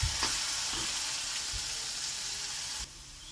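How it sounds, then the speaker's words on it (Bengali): Potato pieces fry in a pan with hot oil and a little turmeric. A dense, steady sizzle is broken by a few soft stirring knocks, and the sizzle drops sharply near the end. "তো আমি আলুটাকে লাল লাল করে ভাজবো"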